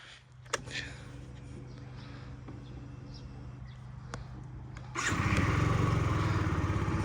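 A Yamaha BWS 49 fuel-injected four-stroke scooter engine idles with a steady low putter, then revs up louder and rougher near the end, recorded close, with no speech.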